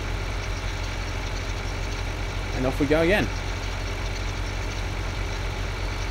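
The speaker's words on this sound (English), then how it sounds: "Thankfully this tractor's got good handling." A tractor engine runs steadily throughout in Farming Simulator 2013, a continuous mid-low idle drone with a voice speaking briefly over it partway through.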